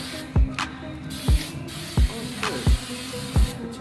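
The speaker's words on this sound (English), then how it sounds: "Now we're spraying." Short bursts of spraying hiss repeat in a steady rhythm, about five sprays of black anti-wash coating onto a Nissan Xterra, close by with a low hum beneath.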